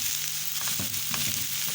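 Chicken meat frying and being stirred in a pot as a base for chicken and vegetable soup, a steady hiss of hot oil with soft scraping stirs, close and continuous with no talking.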